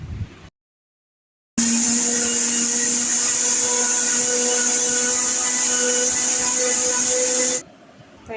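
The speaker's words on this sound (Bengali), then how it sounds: "তো দেখো আমি এখানে মশলাটা বেটে নিচ্ছি।" An electric mixer grinder grinds spices into paste with a loud, steady high-pitched motor whine that runs for about six seconds, then cuts off abruptly.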